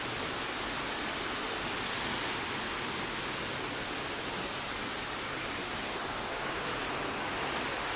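A loud, noisy waterfall roars as a steady broadband rush of falling water, close by and unbroken throughout, with no voices.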